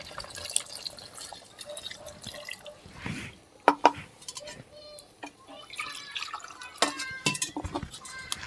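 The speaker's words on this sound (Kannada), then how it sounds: "ಫಸ್ಟು ಮಸಾಲೆ ನೀರು ಹಾಕ್ಯಂತ ಇದೀನಿ ನೋಡ್ರಿ." Masala water gets poured into a pot while cooking country chicken curry, heard as scattered close splashes and drips in a quiet kitchen, with short pauses between pours.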